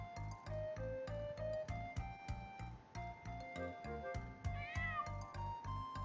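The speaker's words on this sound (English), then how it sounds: "A black cat? What?" A black cat meows repeatedly inside a video game, its cries standing out over steady rhythmic game music with regular low thumps and chimes.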